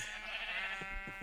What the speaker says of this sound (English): As you can hear, my first sheep farm was here